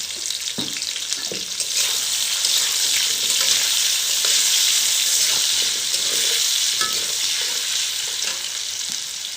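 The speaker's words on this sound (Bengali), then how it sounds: "আলু ভাজাটা হয়ে গেছে" Potatoes with a light coating of turmeric and salt fry in hot oil with a loud, continuous sizzle that holds steady throughout, with occasional faint knocks in the pan.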